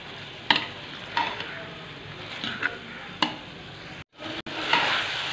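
Kachnar buds and keema stir-fried in masala over medium heat, a steady close sizzle punctuated by several sharp spatula scrapes and knocks, with a brief cut to silence near the end.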